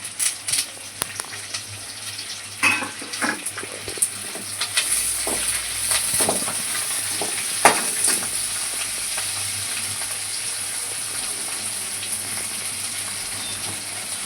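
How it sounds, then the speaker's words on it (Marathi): Green chilies and curry leaves frying in a pan, with sharp spatters and stirring scrapes early on, then settling into a steady close sizzle, no voices. "मिरचीला पण छानसं भाजून घेऊया"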